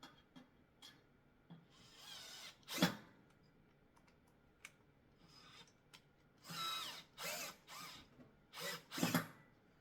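A power drill backing screws out of a commercial-grade stair stepper machine, heard as several short whirring bursts at close range, with a rising buzz around the third second and a cluster of quick runs toward the end, between quieter scraping and handling noises.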